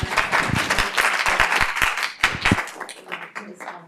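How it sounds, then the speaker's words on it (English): Brief applause from an audience at a law school financial resources breakout session, scattered claps over murmuring voices, fading out after a few seconds. "Round of applause."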